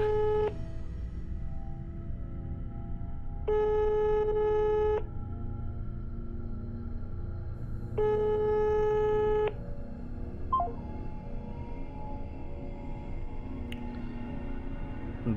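A telephone call over speakerphone gives three repeated tone bursts about four seconds apart, each lasting over a second, above a steady background hiss, with a short beep near the end.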